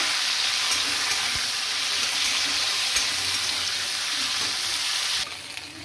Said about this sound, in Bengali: এটা খুব ভালো করে তেলে ভেজে নেব